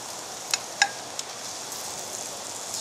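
Eggs and hash browns sizzle on a rocket stove, giving a soft steady hiss with a few sharp pops and clicks near the start.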